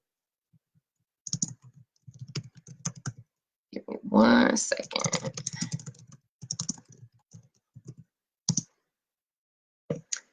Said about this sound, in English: hold on, I'm typing it in.